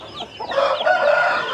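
A rooster crows nearby in a short burst, mixed with clucking from other chickens.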